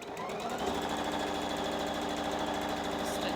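A sewing machine stitches fabric mask pieces in a continuous run, its rapid, even needle chatter loud and close throughout with no speech.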